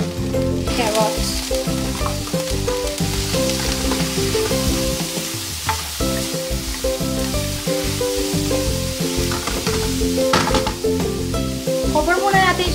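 Onion, mushrooms and carrots sauté in a pan with a continuous bright sizzle and occasional stirring scrapes, while someone speaks over the cooking.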